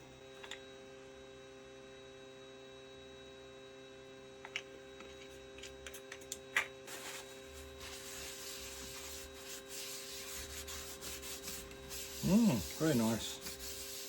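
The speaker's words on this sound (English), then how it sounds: "Now I might put some oil on it." Danish wood oil rubbed by hand onto a piece of repurposed decking wood, a soft, close, continuous scrubbing over a steady electrical hum, with a brief spoken remark.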